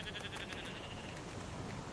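Sheep bleat on a beach against steady wind or surf noise, with a few short cries standing out near the start over the constant background wash.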